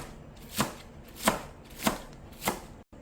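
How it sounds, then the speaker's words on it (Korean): A knife chops scallions finely on a cutting board while making perilla leaf kimchi. Four crisp, evenly spaced chops land close by. "요거 그냥 요렇게 해서 잘게 이렇게 썰어 주시면 되거든요"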